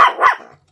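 A dog gives one or two sharp, loud barks up close, the second bark following quickly, then the sound cuts off into silence.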